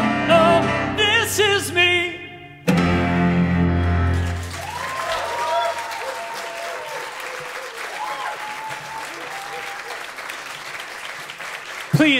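A singer's final sustained note fades, then an audience at the Crazy Coqs cabaret venue bursts into sustained applause with scattered cheers, a broad, even wash of clapping that continues steadily to the end.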